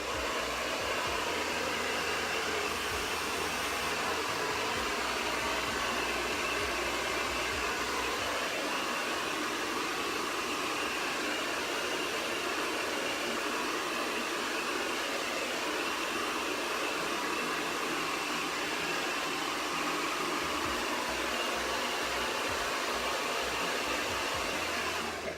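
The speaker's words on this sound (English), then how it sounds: "So I always blow dry from the top" A hair dryer blows steadily while drying hair, a loud continuous whooshing hum with brief shifts in tone as it is moved, running throughout without talk.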